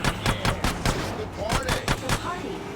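Gunfire in the GTA San Andreas video game, a rapid series of loud sharp shots at a fairly regular rhythm, some close together, with game sounds mixed in behind.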